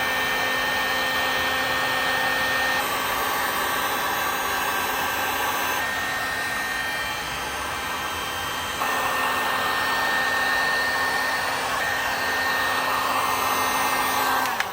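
A hot air blower roars steadily at close range, heating the glue seal of a 2006–2010 Dodge Charger headlight housing, with a constant whooshing hiss and only small shifts in tone throughout.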